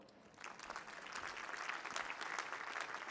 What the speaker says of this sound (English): So it certainly does deserve a round of applause